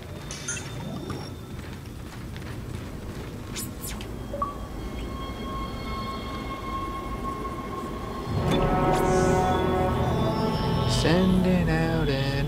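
Train moving in the Dead Space video game, a continuous mechanical rumble with squealing tones that grows louder and denser partway through, with screeching pitch sweeps near the end.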